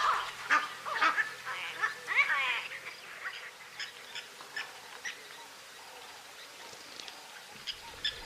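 Harsh honking and hoarse calls from a flock of about eight Egyptian geese, bursts clustered at first then thinning out, moderately close in an open outdoor setting.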